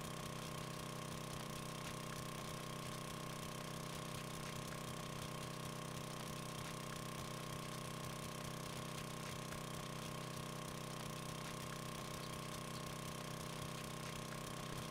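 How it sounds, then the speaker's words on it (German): Power drill grinding into a gun safe in the 7 Days to Die video game, a steady droning whine with constant buzzing tones that runs unbroken and fairly loud for the whole stretch. "Los, Bohrer. Friss dich hinein."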